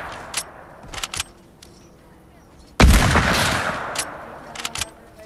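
A single loud sniper rifle shot in the video game Fortnite cracks out sharply and decays over a couple of seconds, amid quieter clicks and short in-game sounds.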